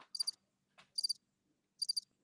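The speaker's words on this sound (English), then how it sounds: "Crickets." Three short bursts of cricket chirping, each a quick rapid trill, evenly spaced and alone against near silence.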